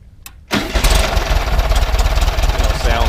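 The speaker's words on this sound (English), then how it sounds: "We'll go ahead and start it up. You can hear it run." A 1965 Volkswagen Beetle engine cranks briefly, catches, and settles into a loud, close, steady idle with an even chugging pulse.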